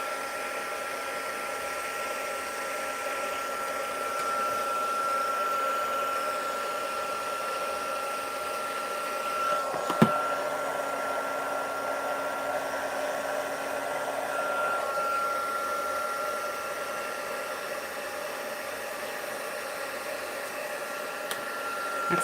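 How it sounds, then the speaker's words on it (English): Steady broadband whoosh of a heat gun blowing hot air during a card-making craft session, running continuously and fairly close with a faint tonal hum, no talking. "Let me get my heat gun."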